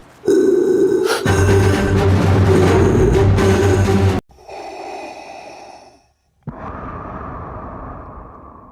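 Loud, hollow, filtered breaths rasp in and out through a gas mask, imitating Darth Vader's breathing, a long drawn inhale followed by two slower exhales, close and resonant.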